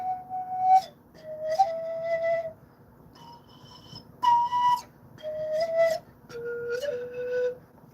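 A pan flute played alone in short breathy notes, about seven separate tones of varying pitch with brief pauses between them, clear and close.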